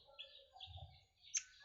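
A caged white-crowned forktail (murai air) gives a few faint, thin whistled calls and chirps in a quiet room, with one brighter sharp note near the end.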